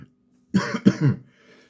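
A single short, close cough, two or three rough bursts in quick succession, followed by quiet.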